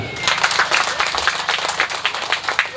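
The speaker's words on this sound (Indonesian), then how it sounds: "Mari kita tepuk tangan dulu." A small crowd at an outdoor election campaign event applauds, a dense patter of many hands clapping steadily and fairly loud for a few seconds.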